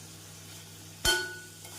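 Cauliflower poriyal being stirred in a pan at the end of cooking, a soft steady sizzle with one sharp utensil clink against the pan, close and quiet, no talking.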